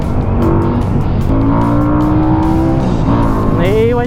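A QJ Motor SRV 400 motorcycle with a 400 cc engine revs hard up close, its pitch rising and falling in loud surges, with the motor's drone rising sharply toward the end.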